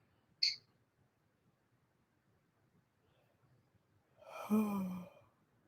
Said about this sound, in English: You're sitting there yawning.